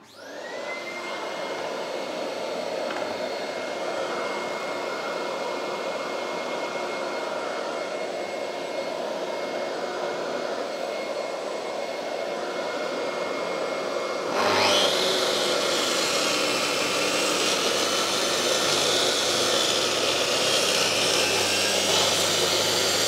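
A power saw runs steadily while workshop equipment cuts through a 1 inch MDF board, a loud continuous whine that jumps brighter and harsher about two-thirds of the way in as the blade bites into the board.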